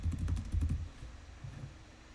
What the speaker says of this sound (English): Typing ASMR because I don't have my noise suppression on today.